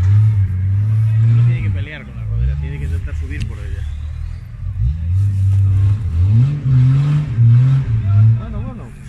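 An off-road car's engine revs hard as it struggles up a rut on a hill-climbing trail. Loud, surging bursts of revving rise and fall repeatedly, with voices talking over the engine.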